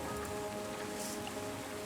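Steady rain falls in the video game Terra Nil, a dense continuous hiss of patter that holds evenly at moderate level throughout, with no talking.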